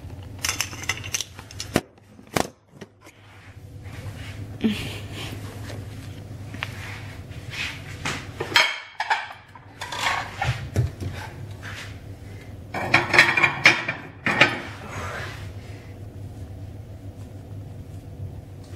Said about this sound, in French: je range la vaisselle